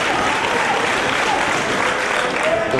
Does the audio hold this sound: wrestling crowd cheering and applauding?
yes